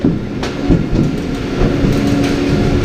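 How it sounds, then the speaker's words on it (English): Roller coaster train at Busch Gardens Williamsburg rolling into the station, loud close rumble with clattering wheel clicks and a few sharp knocks, no voices. "Once the train has come to a complete stop in the station"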